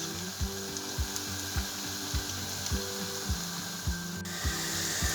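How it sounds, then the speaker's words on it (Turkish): Eggplant frying in hot oil sizzles steadily with a broad hiss, punctuated by regular soft knocks about every half second, like a utensil tapping a pan nearby. "Bu tarafta patlıcanlarımı kızartıyorum."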